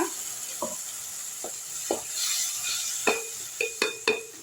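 Thick tomato and onion paste sizzling in a frying pan as a spoon stirs it, with scattered metallic scrapes and clinks growing busier toward the end; no voices.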